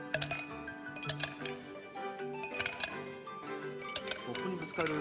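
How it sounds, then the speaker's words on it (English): Ice cubes clink against a glass cup in quick, bright, repeated chinks, layered over a sustained tonal backdrop at moderate level. "The Joy-Con can convey to you the feeling of ice cubes colliding in a cup."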